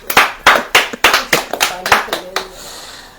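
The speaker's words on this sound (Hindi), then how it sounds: "ताली नहीं बजाएंगे" A church congregation claps in bursts of applause, about nine sharp rhythmic rounds of hand claps close by, fading into a quiet room tone at the end.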